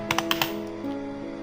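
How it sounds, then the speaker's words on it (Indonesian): Fingers type on a computer keyboard in a short burst of several quick clicks in the first half second, close and fairly quiet, followed by a low steady background hum with no talking. "di sini kita ketik aja"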